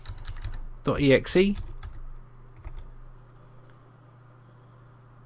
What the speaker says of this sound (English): I'm going to type here now